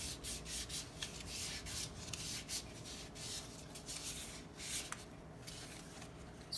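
Paper flower petals are rubbed and curled against a small dowel rod, giving faint, close, repeated scraping strokes in an otherwise quiet room.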